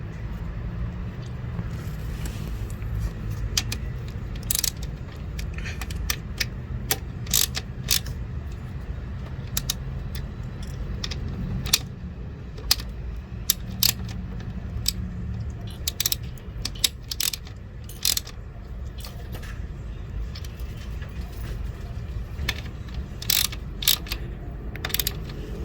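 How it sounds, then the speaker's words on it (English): A ratchet tightening an EGR vacuum solenoid on a 2000–2004 Mitsubishi Montero Sport, with sharp clicks scattered irregularly over a steady low rumble, some in quick bursts, close and moderately loud. "Tighten it with your ratchet."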